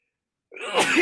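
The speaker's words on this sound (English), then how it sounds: "hold on, I'm gonna sneeze again" A single sharp sneeze bursts out after half a second of silence, close and loud, with a breathy, explosive release.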